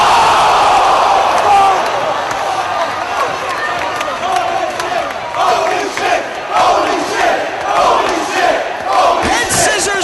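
Pro wrestling match in which two wrestlers crash into the ringside guardrail, heard as a dense, loud arena crowd roar with scattered impact thuds and shouts throughout, with commentary voices mixed underneath.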